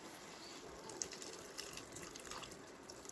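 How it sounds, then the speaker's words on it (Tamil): Dissolved tamarind water poured into sambar cooking in a pot, a soft continuous trickle and splash of liquid with small drips, quiet and steady throughout without talk. "இப்போ அந்த புளியை வந்து இதில் கரைச்சி ஊற்றிடுவோம்."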